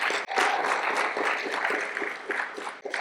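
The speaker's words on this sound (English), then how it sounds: "give him a round of applause" A live audience at a cinematographer's interview event applauds steadily, a dense wash of many hands clapping together with a brief dip near the start and another near the end.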